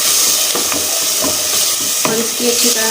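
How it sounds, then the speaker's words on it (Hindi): Yogurt hitting frying egg biryani masala in a pan gives a loud, dense, continuous sizzle with a few stirring knocks, while someone speaks briefly over it. "अब मैं इसमें डाल दूँगी 1 प्याली दही की।"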